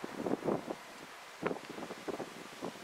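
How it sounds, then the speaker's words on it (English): Strong wind of about 20 mph on a near-freezing day in southwest Georgia, buffeting the microphone in uneven gusty bursts and rumbles close up, with no talking. "the wind's blowing about 20 miles an hour"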